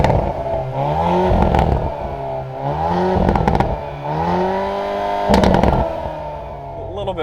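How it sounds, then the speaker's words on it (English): A Veloster N engine revs repeatedly in short bursts, each rise in pitch followed by crackling exhaust pops and turbo whoosh; moderately loud and close, rhythmic blips without speech. "Ooh, that turbo and the pop-pops."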